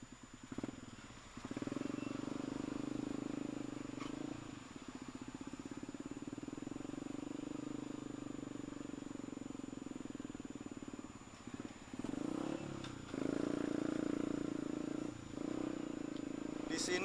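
A single-seat Duck Fighter motorcycle rides through jammed traffic on wet roads after rain, its engine holding a steady, close drone with a few brief dips while a voice talks over it.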